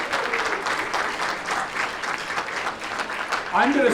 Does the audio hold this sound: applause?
yes